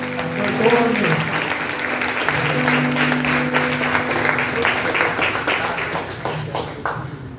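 A church congregation applauds during a worship service, sustained clapping from a full room with music and voices underneath that tapers slightly toward the close.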